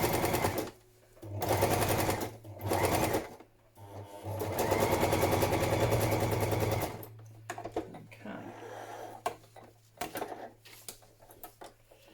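A sewing machine stitches a padded patchwork journal cover in three bursts of steady mechanical whirring, close and fairly loud, the longest lasting a few seconds, followed by lighter handling clicks and someone speaking.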